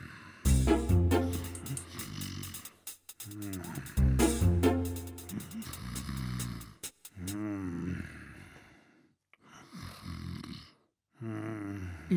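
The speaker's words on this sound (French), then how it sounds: "Surpris d'entendre un tel ronflement, il se dit que quelque chose ne tournait pas rond." A wolf in a French telling of Little Red Riding Hood snores loudly in deep, rumbling, growling breaths that repeat in slow cycles, with a narrator's voice performing the snores and some softer breathy passages between.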